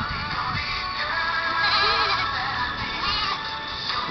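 Several goats bleat over one another, a continuous wavering chorus of calls in a noisy outdoor setting, fairly loud and close.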